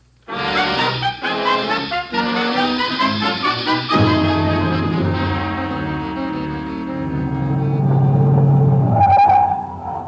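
A car in an old-time radio drama sound effect drives off and runs steadily, engine rumbling loud and continuous for about ten seconds with a brief higher whine near the end.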